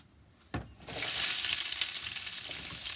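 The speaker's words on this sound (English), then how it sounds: "till we get that sizzle happening" Chopped onion hits a hot pan with a thud and breaks into loud, steady sizzling that continues without talk.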